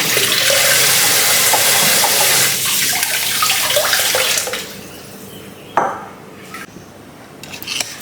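Potatoes washed under a running kitchen tap, a loud steady rush of water for about four and a half seconds that stops abruptly. A quieter stretch follows with a few clunks and small handling sounds.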